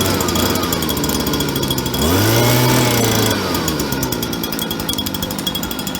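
A waste oil burner firing a rocket-stove steam boiler roars loud and steady at close range, with a brief rising and falling whine swelling through the middle.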